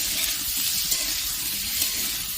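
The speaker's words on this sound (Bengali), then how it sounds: "ভেজে ভালো করে বেশ লাল লাল করে পটলগুলো ভেজে নেব" Pointed gourd pieces fry in hot oil as they brown, giving a steady, close, even sizzling hiss with no talking.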